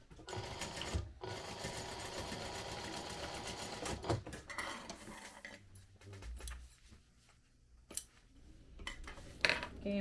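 A sewing machine stitches bag lining in quick, rattling bursts, running steadily at first, then stopping and starting in shorter runs with quiet handling noises between them.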